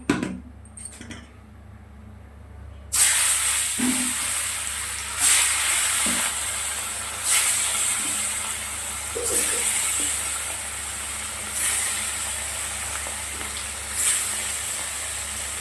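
Pieces of katla fish dropped into hot oil in a wok burst into a loud sizzle after a quiet start, then a continuous frying hiss that swells in repeated waves as the pieces are moved and stirred.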